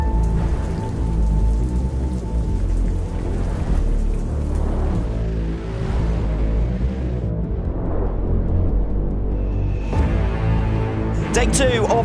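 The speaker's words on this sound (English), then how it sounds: "It's a wet race, the rain is coming down." Heavy rain pours steadily during a wet motorcycle race at the Pirelli French round, a dense continuous hiss drumming on surfaces, with a motor droning beneath it and a burst of sharper crackles near the end.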